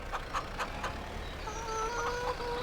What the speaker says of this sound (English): Oh, hey, chicken, you want to get out of the way?